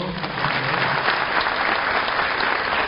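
Steady, dense applause from a crowd at a 2013 university entrance ceremony, filling a large hall evenly for a few seconds without speech.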